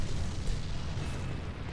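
Enemy cannon fire in the Bloodborne video game, a heavy low boom rumbling continuously through a short stretch without any speech.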